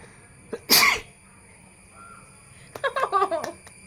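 A person sneezes once, loud and sharp, during a sneezing challenge, followed after a pause by sniffly, wheezy breaths and small vocal sounds close to the microphone.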